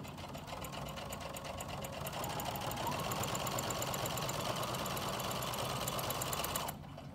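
A Brother sewing machine stitching forwards runs in a fast, steady mechanical patter of needle strokes at close range. It holds an even pace before cutting off abruptly near the end, with no talk.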